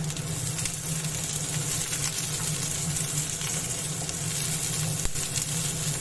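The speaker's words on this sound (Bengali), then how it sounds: "প্রথমে আমি পেঁয়াজ আর রসুনটা একটু হালকাভাবে ভেজে নেব।" Chopped onion and garlic sizzle in hot oil in a frying pan, a steady, dense hiss that stays loud and close throughout with no speech.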